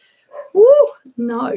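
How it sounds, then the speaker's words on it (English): A dog somewhere downstairs gives a short whimpering yip followed by a longer whining bark, heard close and fairly loud in a room where a person speaks briefly. "Sorry if you can hear my dog, he's downstairs."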